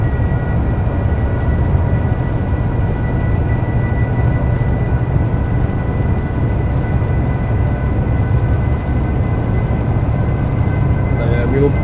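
A train in Train Simulator 2017 runs into the Severn Tunnel with a steady, loud, low rumble and unchanging engine drone, while a person talks over it.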